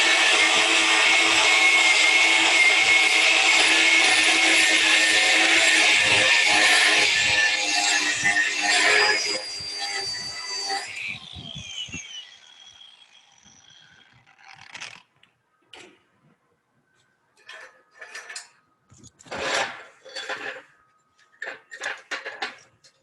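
Arc welding a weave cap pass on plate steel with slag popping loose: a loud, steady crackling sizzle runs for about nine seconds, then cuts off, leaving scattered short pops and ticks of cooling slag.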